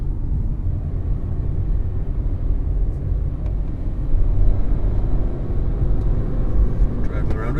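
Inside a car driving along a road with Airtabs fitted, a steady low road rumble and engine drone fills the cabin, close and constant, with a few faint clicks.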